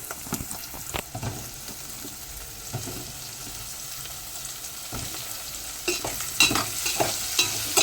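Drumstick pieces frying in oil with turmeric in a pan for a tomato curry, a close sizzle broken by frequent stirring scrapes and clatters, with a busier burst of stirring near the end.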